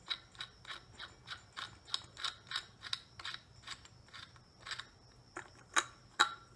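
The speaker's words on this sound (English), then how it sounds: "Unscrew that right there." A socket wrench unscrews a porch light fixture in a tiny house, producing a run of quick, crisp metallic clicks at an uneven pace, close and fairly loud, with a couple of sharper clacks near the end.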